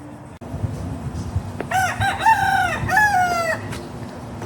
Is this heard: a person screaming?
no